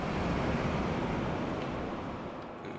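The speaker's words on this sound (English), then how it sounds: "I also want to put this ocean noise on" An ocean noise sample plays back from an SP404 MKII sampler as a steady, broad wash of surf. It keeps going without a break and fades a little toward the end, with no talking.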